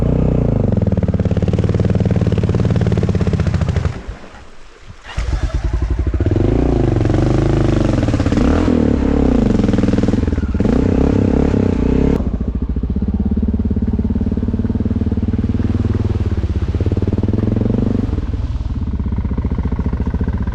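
A motorcycle engine runs loudly and steadily close by, briefly cutting out and sputtering before roaring back and idling with a rough, rumbling tone.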